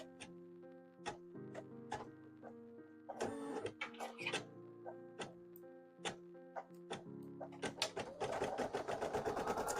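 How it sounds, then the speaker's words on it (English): An embroidery machine stitching at a home sewing setup, quiet and somewhat distant, with a steady run of rapid needle clicks and rhythmic mechanical whirring that speeds into a denser chatter toward the end. "Let me scoot back so you're not constantly hearing the embroidery machine."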